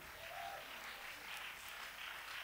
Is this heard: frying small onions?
no